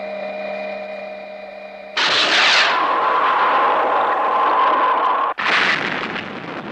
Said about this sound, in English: The mining platform! It's being bombarded!